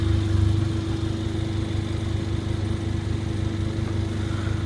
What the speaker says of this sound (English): Under the hood is a handcraft AMG 2-liter turbo inline 4-cylinder engine with 7-speed AMG speed shift transmission